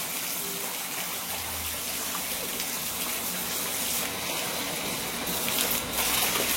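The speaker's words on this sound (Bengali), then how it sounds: "একটু জলটা ঘেঁটে দিই যাতে নোংরাটা বেরিয়ে যায়।" Water in a fish tank is stirred and churned by hand, a continuous close splashing, sloshing wash that holds steady throughout with no talking.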